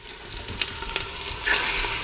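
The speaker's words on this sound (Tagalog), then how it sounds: "isi-sear lang natin tong beef shank" Beef shank sears in hot oil in a pan, giving a steady, close broadband sizzle with brief crackling pops and a swell of hissing near the end; no voices.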